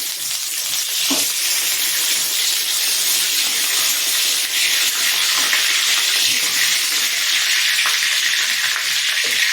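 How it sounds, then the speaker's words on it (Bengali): Hot oil sizzling loudly as dried chili and bay leaves are dropped in for tempering, a dense steady hiss close up with a few faint pops and clinks. "এখন আমি ফোড়ন দিয়ে দেবো। দিলাম তেল, একটু লঙ্কা, তেজপাতা"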